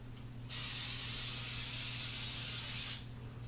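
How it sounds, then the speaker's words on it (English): A single steady hiss of non-stick cooking spray from an aerosol can onto a 9x13 baking dish, lasting about two and a half seconds, close and loud against a quiet room. "spray our 9x13 baking dish with some non-stick cooking spray"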